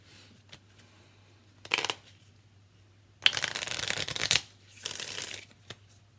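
Tarot cards being shuffled in several bursts: a short riffle, a pause, then a longer flurry of rapid flicking and another shorter shuffle, close and clear in a quiet room.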